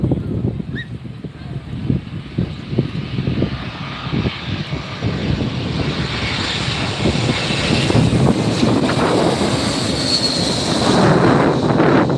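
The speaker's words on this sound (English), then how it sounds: "Let's see American Airlines coming in." An American Airlines airliner comes in to land at LAX, giving a steady, broad jet roar that builds gradually over several seconds amid noisy outdoor background at a planespotting spot nearby.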